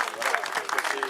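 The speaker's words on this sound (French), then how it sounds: "Je vous propose qu'on l'applaudisse très fort." Crowd clapping at a 2014 cycling race prize ceremony in Sévignac, a brief burst of applause under an announcer's voice on the public address.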